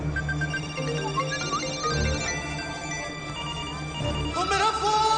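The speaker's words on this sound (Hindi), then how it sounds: "वो मेरा फोन" A melodic phone ringtone plays over a busy room with background chatter and music, its tones repeating steadily and fairly loud.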